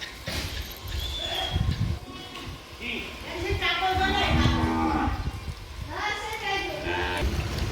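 Village cows in Gujarat, being let out to graze, give two long, loud, drawn-out moos close by, with people talking between and under the calls.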